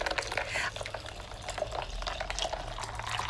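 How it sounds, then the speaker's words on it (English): Water is poured steadily into a pitcher of aloe vera lemonade, filling it all the way up. A continuous splashing, gurgling pour carries on close by without a break. "And now I am ready to start adding the syrup, the water, and I'm going to fill it up all the way up."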